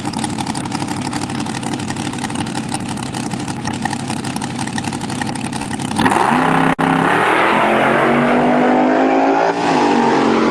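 Dragsters at Empire Dragway in qualifying: a loud, steady engine drone for several seconds, then a sudden louder rising roar as the cars launch down the strip, close and continuous with no voices.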